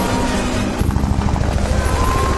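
A helicopter drones steadily in an action film scene, a loud continuous rotor roar with a low pulsing thump running through it, dense and close with no talk.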